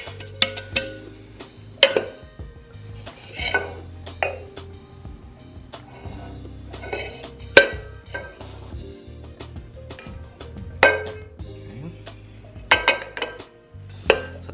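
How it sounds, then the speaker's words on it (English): A floured pound cake tube pan is tapped and knocked, giving sharp metallic raps every couple of seconds over a low background rumble, close and fairly loud. "I low-key, high-key enjoy flouring a pan"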